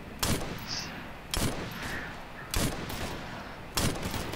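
Four evenly spaced gunshots ring out from a rifle in the military shooter Operation Flashpoint: Red River, each a sharp loud crack with a short tail, about a second apart, with no talking.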